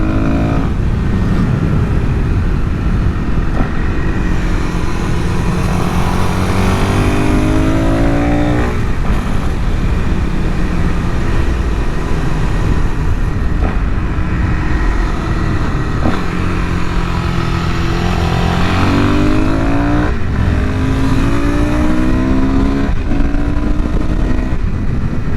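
A Suzuki DRZ400SM motorcycle with an air box modification revs and rides steadily, the engine note rising and falling in repeated sweeps under constant wind rush, loud and close throughout.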